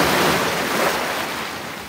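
Ocean waves wash loudly onto a beach in Bohol, a dense, close rush of surf with some wind noise, fading slightly toward the end; no voices.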